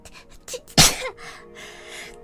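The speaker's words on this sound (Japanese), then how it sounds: "私くしゃみしたんだ。" A single sharp, close sneeze bursts out after a few soft breaths and small mouth noises, followed by quiet room tone.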